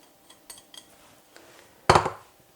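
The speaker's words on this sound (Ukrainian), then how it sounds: "І ще раз все перемішую" A utensil stirs crepe batter in a bowl after grated cheese, herbs and a spoonful of oil are mixed in. Light clinks come first, then one louder, brief scraping stir, with no talking.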